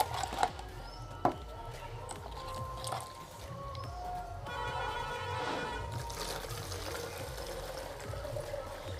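Dirty water mixed with a little soil is poured into a plastic Bisleri bottle filter, giving a steady close trickle and splash that runs for several seconds with a couple of sharp knocks near the start.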